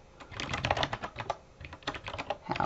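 Rapid typing of code on a computer keyboard, a dense run of close, crisp key clicks in quick uneven bursts with a short pause midway, no voices.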